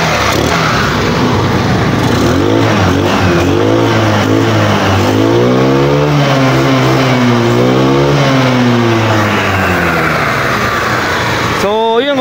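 A GY6 150cc engine in a Microbike EXO150, fitted with a 24mm Keihin carburetor running open with no air filter, revs up and down loudly and continuously up close, its pitch rising and falling through repeated throttle blips.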